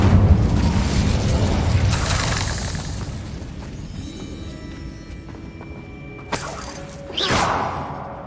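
An Incendio fire spell in Hogwarts Legacy erupts with a deep, loud boom and crackling burst, fading into a steady roar, then two sharper whooshing flare-ups follow late in the sequence.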